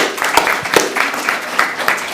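An audience at a legal lecture applauds, dense clapping rising and falling in soft waves, close and steady throughout, with no voices over it.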